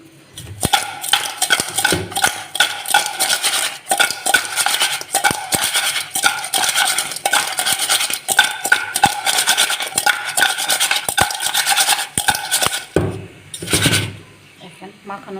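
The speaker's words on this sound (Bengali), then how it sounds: "হলুদের গুঁড়া মরিচের গুঁড়া লবণ মাখানো" Raw crab is mixed with turmeric, chili powder and salt, making dense, rough, clattering scrapes and knocks that continue steadily for most of the stretch and ease off near the end.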